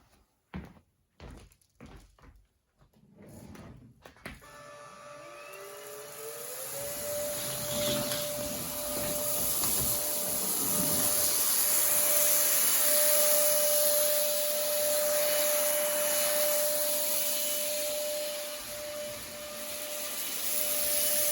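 Cheap no-name cordless stick vacuum sucking up spilled rice, starting after a few knocks and clatters, then a loud steady whining motor hum with rattling grains running to the end.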